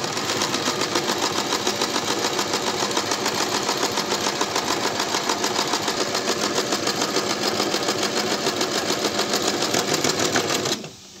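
A sewing machine runs fast and steady, stitching a second reinforcing seam on bloomer pants, a close, continuous mechanical whir with rapid needle ticking that stops abruptly near the end.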